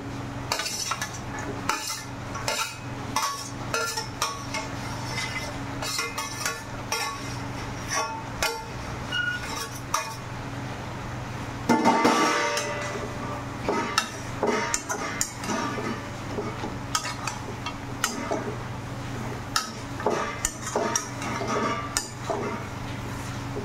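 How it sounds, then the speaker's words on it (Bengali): Chicken stir-fried with lentil masala in a pan: repeated metal spatula scrapes and clanks against the pan over a low background hum and faint sizzle, with a brief louder rush midway. "এবার চিকেনটা দিয়ে ভালো করে কষিয়ে নেব"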